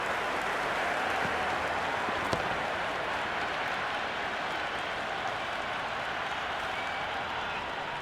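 A virtual stadium crowd at a cricket match in a PC video game keeps up a steady, dense roar of applause and cheering, fairly even in loudness throughout.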